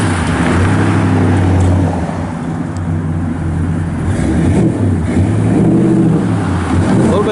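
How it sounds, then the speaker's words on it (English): Road traffic rumbles past beside a country road in Goodrich, Michigan. The engine drone is loud and close and swells and fades continuously, with no speech. "A little bit of traffic today."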